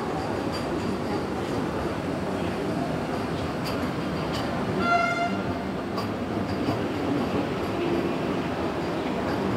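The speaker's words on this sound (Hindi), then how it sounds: "वो था अराइवल हज़रत निज़ामुद्दीन खजुराहो वंदे भारत एक्सप्रेस का" An arriving Hazrat Nizamuddin–Khajuraho Vande Bharat Express pulls into an Indian station, a steady rumbling train wash with a brief tonal horn-like sound near the middle, heard from a nearby platform.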